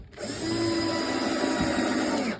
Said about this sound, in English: And I like to just put one screw in